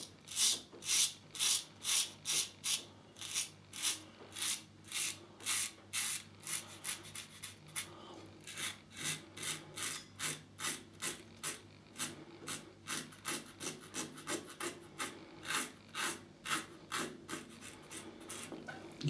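A Gem 1912 single-edge safety razor scrapes against the grain of a lathered face, a crisp raspy stroke repeating in quick close rhythmic bursts, some short and some longer, with no talking.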